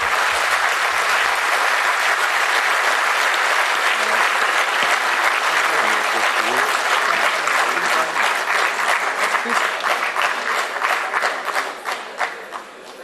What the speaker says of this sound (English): Please give a great applause to our MD